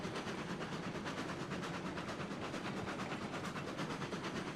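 A fast train runs at top speed in the Railroads Online game, its steady rolling rumble and faint rhythmic clatter filling the whole stretch at an even, moderate level with no voices.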